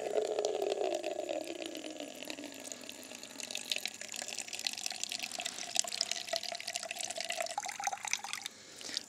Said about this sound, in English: let's time this for 1 minute to see how the normal pressure tank fills this container.